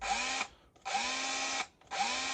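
An older Makita 18 volt, 5 amp SDS hammer drill runs on hammer action in three bursts of roughly half a second to a second each, a loud buzzing rattle with brief pauses between triggers and no talk.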